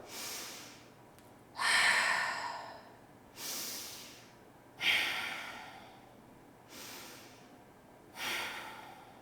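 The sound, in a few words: ujjayi (victorious) breathing during yoga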